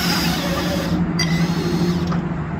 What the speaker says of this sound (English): Get you a drill.